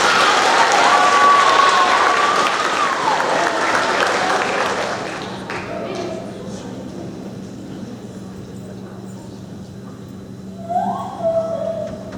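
An audience at a 6th grade awards ceremony claps for students in a strong burst that fades over about five seconds into a quiet room, with a few faint scattered sounds afterward.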